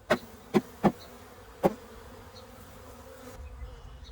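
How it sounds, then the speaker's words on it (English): Honey bees being knocked into a hive split, a low background hum of the bees broken by four sharp knocks in the first two seconds, heard close with no talking. "we're just going to go ahead and knock these bees into the split."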